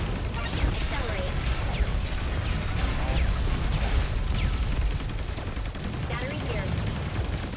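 Rockets firing and explosions in a video game campaign, dense overlapping blasts and cracks rolling continuously at close range, with gunfire-like bursts layered in.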